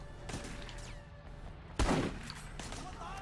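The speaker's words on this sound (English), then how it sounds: "Long range shotgun shot." A single booming shotgun blast rings out in the video game Sleeping Dogs over a steady backdrop of game ambience, with a faint voice in the background.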